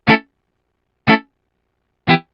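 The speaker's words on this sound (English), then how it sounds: "I'm going to be using UJam's Sparkle Virtual Guitarist software" Three short, clipped reggae guitar chord stabs from UJam Sparkle virtual guitar software, about one second apart, each choked off quickly with silence between, like offbeat reggae skanks.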